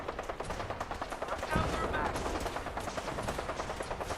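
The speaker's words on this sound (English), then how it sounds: "I'm just gonna shoot the raiders on my way through this mess" Rapid bursts of gunfire crackle from a Fallout 4 firefight against raiders, rattling in quick repeated volleys. The shots are fairly quiet, with a slightly heavier blast midway.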